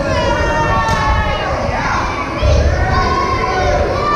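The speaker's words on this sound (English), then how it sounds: "This crowd again trying to get behind Lumberjack Larry" A wrestling crowd at a PPW event cheers and shouts for Lumberjack Larry, a dense, loud wall of voices with higher children's shouts that swells near the end.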